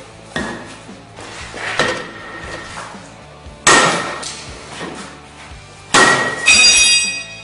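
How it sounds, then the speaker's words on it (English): A hammer strikes hard and breaks during a fail attempt to whack through 8 inches, giving several loud metallic impacts with ringing, clattering debris, the strongest near the middle and end, with no talking. "Well, we broke the hammer."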